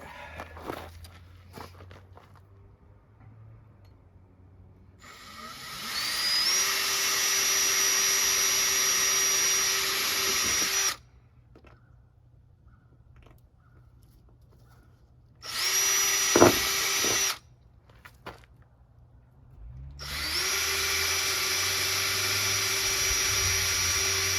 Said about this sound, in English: And then run the screws in.